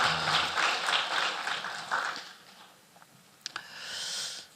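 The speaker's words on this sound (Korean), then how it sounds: "우리 한번 격려의 박수를 한번 하도록 하겠습니다" A church congregation applauds its worship team, a dense round of clapping that fades over a few seconds, followed by a few scattered claps and faint room noise.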